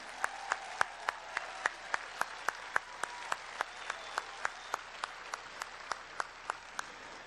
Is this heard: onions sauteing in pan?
no